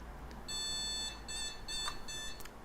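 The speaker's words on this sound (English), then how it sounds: "That's why a bloody PC BIOS needs to beep in 2022." A PC beeps during boot on an overclocked AMD Ryzen 7950X build with DDR5-6000 RAM. Quiet, high electronic beeps sound in short pulsed bursts over a steady low hum, with no talk.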